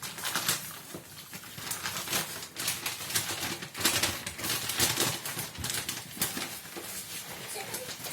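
A delivered parcel of quiz prizes is torn open, with close, continuous crackling and ripping of paper and packaging in busy bursts throughout.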